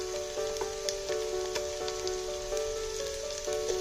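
Capsicum and green chilli sizzling in a hot pan while preparing restaurant-style chilli chicken, a steady close crackle and hiss with a few soft stirring clinks and no talking.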